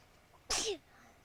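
A single short, sharp human sneeze, loud against a quiet room, bursting out and fading within about a quarter second.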